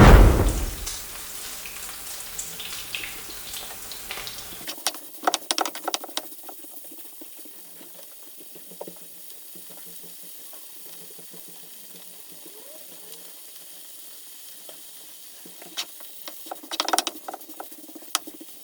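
Sausages frying in a dry pan with no oil, a loud sizzling burst at the start that drops to a soft, steady crackle and patter, then swells again with brief sharper pops near the end.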